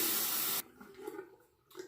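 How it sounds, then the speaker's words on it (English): Tap water running into a sink during a post-shave rinse: a loud rushing stream for about half a second, then cut off, leaving faint splashes and drips. "And now we'll rinse again"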